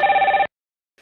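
A telephone rings once during a live radio show, a short loud electronic trill that cuts off abruptly and leaves silence.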